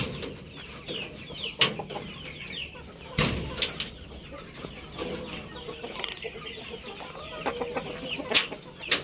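Shamo cross Plucker chicken clucking in short, scattered calls with occasional sharper squawks, close by amid low farmyard background noise, with no talking.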